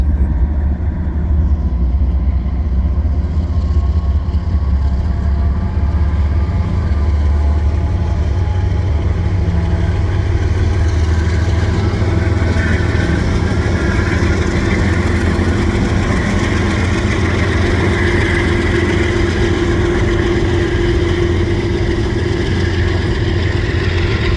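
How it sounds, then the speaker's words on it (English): A CN freight train's locomotives pass in a loud, sustained diesel engine drone with a deep throb and steady rolling rumble, continuing unbroken at close range. "Locomotives."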